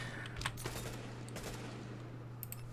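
An automated turret in The Division firing quick bursts of sharp shots, some distinct cracks over a low steady hum, moderately loud and intermittent.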